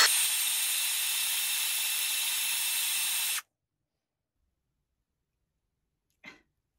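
A flap wheel sands black marks off a workpiece with a loud, steady abrasive hiss that runs for about three seconds, then cuts off abruptly into silence, followed later by one faint brief sound.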